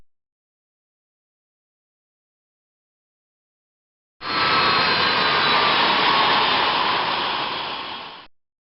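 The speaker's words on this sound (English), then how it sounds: "shut down the engines by touching the start levers on the aisle stand." Boeing 737NG jet engines spooling down after shutdown at the start levers, a loud broadband roaring whoosh that starts abruptly partway in and holds steady before fading away near the end.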